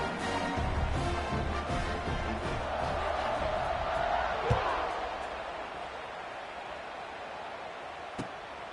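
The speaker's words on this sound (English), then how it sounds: "this crowd is buzzing after that last score" Large football stadium crowd buzzing with steady, loud broadband noise after a score late in a close game, with a couple of sharp thumps standing out and a commentator-like voice partly under the din.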